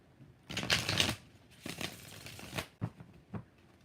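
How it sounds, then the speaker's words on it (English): Close-up shuffling of a tarot deck: one long riffling burst, then a second softer run and a few sharp card taps, with no one speaking. "Two more shuffles."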